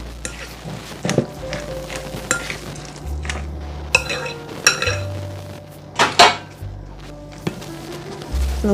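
Potatoes being mashed with a potato masher in a pot alongside room-temperature cream cheese and butter, giving repeated clanks and scrapes of metal on the pot at an uneven rhythm, close by.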